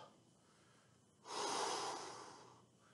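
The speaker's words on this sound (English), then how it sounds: "Big inhale. Big exhale." A person breathes deeply during a mobility workout, with a long, loud, close inhale that rushes in, holds briefly and then eases off as the exhale begins.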